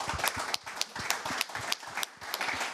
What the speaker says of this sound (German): Großen Applaus auch dafür